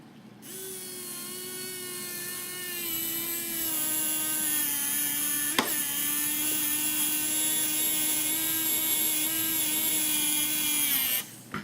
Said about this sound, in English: Now I'll get my little electric drill out again.